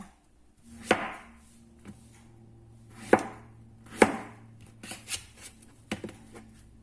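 Knife chopping through a freshly picked winter melon on a cutting board, a handful of sharp, distinct chops spaced irregularly with brief pauses between them, close and clear with no talking.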